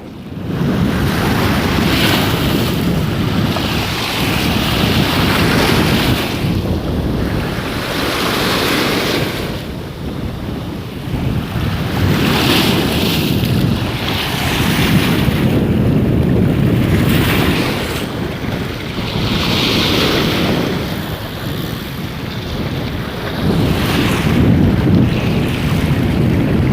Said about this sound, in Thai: นั่งดูคลื่น